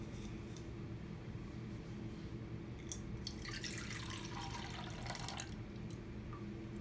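Liquid poured into a container for a clock reaction chemistry demonstration, a faint splashing pour that starts partway through and runs for about two seconds over a quiet steady background hum.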